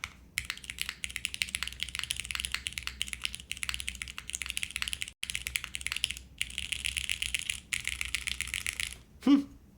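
Rapid, steady clacking of keys on a TKD Cycle7 mechanical keyboard build fitted with Cherry switches, close and fairly loud, running continuously with brief pauses and a heavier thunk near the end.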